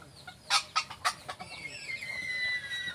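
Newly caught wild red junglefowl (labuyo) clucking in a cage, a few short, close clucks followed by a thinner drawn-out call against quiet rural background.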